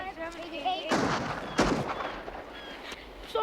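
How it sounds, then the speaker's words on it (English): Gunshots from The Goonies crack out near an old restaurant: two sharp, loud blasts about a second apart over a low background, with faint voices around them. "they hear literal gunshots"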